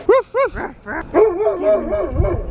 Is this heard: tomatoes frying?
no